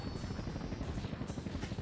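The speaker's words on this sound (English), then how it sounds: "Oh, we're back in the helicopter." Helicopter in the 1998 Sega Dreamcast game Incoming, a continuous low rotor drone with rapid pulsing chop, steady and fairly quiet throughout.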